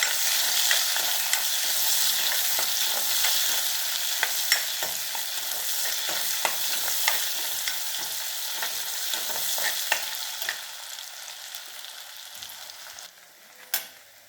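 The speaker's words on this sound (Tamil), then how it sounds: "சின்ன வெங்காயம் பொடி பொடியாக அரிஞ்சு வச்சுருக்கேன் நல்லா இதை வதக்கினேன்" Finely chopped shallots sautéing in a pan for garlic kulambu, a close, constant sizzle broken by frequent scraping and stirring strokes that thin out and fade toward the end.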